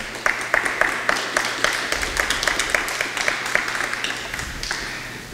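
A church congregation claps together in a brisk, fairly regular rhythm, many hands striking in unison beat after beat at close range, with no talk over it.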